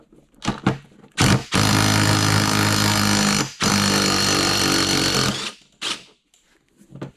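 Power tool driving a winding puller to pull the pulley off a power steering pump on a 2004-2008 Pontiac Grand Prix, two loud sustained bursts of whirring separated by a short pause, with brief clicks and taps before and after.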